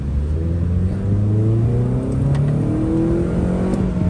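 A modified Honda Civic engine revs hard and climbs in pitch, its deep throaty roar steady and loud with rising and falling harmonics, no voices.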